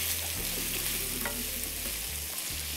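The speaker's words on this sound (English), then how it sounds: "now that my sausage is turning a little brown, we'll go ahead and add the other ingredients. So you add your garlic." Sausage and garlic sizzling and frying in a pan for bow tie pasta, a steady close crackle with stirring scrapes, no talking.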